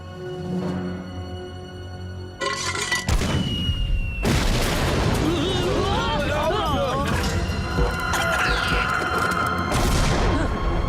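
Gunfire blasts and booming impacts in a Slugterra animated action scene, a dense barrage of crashes and shots over a music score, with voices speaking through it.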